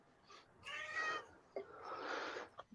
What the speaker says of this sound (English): The cat's going again.